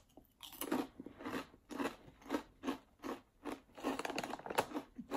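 Close, loud crunching of Ruffles Double Crunch hot wing flavored ridged potato chips, a quick string of crisp bites and chews repeating in an uneven rhythm with no talking.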